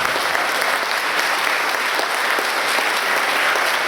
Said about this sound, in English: please raise your hand or clap.